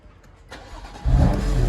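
A BMW M2 Competition sets off on a drive: a soft rising engine note, then a sudden loud surge as it pulls away and keeps accelerating, close and continuous with no talk.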